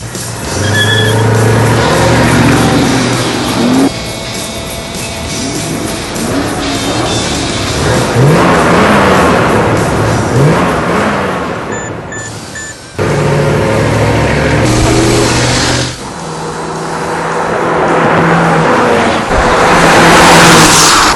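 A 2003 Mercury Marauder doing a burnout: a loud, close V8 roar revving and surging for about twenty seconds, with tyre squeal and a short break partway through.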